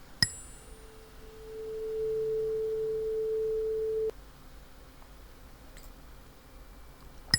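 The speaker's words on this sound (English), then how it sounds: "And let me check the low frequency sound" A low-pitched steady sine test tone played during a lecture on the biochemistry of hearing, rising in loudness and holding for a few seconds before stopping abruptly, with faint clicks around it and no speech.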